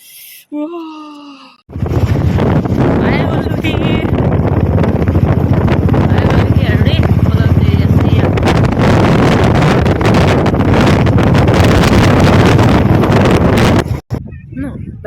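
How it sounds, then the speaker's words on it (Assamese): Strong wind roars and buffets the microphone almost continuously on a bridge near water at Parshuram Kund, loud and rumbling, with brief calmer moments at the start and end. "বতাহ মাৰিছে পুৰা"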